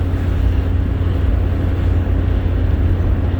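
A 1965 Ford Mustang GT convertible on a test drive, its engine a steady low rumble with constant road and wind noise close to the microphone, no voices.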